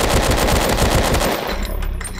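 Rapid automatic machine gun fire in the Amnesia horror video game, a loud continuous burst of shots that thins out toward the end, with no talking over it.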